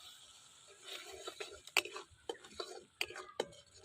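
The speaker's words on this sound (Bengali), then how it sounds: "আমি মশলা কষাতে থাকি।" Spoon scraping and clinking against a pan as spices with coriander and cumin powder are stirred and fried, several sharp taps over a soft background with faint murmuring.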